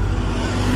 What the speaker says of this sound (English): So those are the buses.